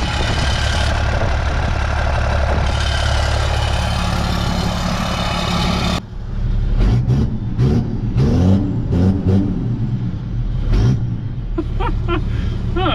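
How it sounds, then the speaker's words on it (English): Cummins 12-valve diesel dually truck with a custom hood stack, its engine roaring loud and close at steady revs, then settling into a lower rumble with turbo whooshes and surging revs. "Turbo spool sounds good through there."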